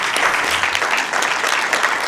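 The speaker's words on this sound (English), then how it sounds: "So big round of applause for our awardee from Power and Alliance" Applause at a city council meeting: a roomful of people clapping steadily, dense and fairly loud throughout, with no voices over it.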